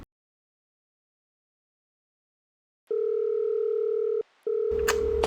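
A telephone ringback tone purrs steadily while a call is placed, one long tone, a brief gap, then another, clear and close before a sudden noisy burst at the end.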